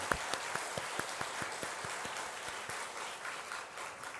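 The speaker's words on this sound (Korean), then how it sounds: "박수 한번 쳐주십시다 우리 아이들을" A church congregation applauds the children during a sermon, a soft, fairly distant wash of clapping with a few sharper individual claps standing out early on.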